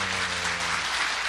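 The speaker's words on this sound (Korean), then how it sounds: "이 박수 소리를 들으니까요." Audience applause at a lecture hall mentoring talk, a dense, even wash of clapping heard briefly and steadily throughout.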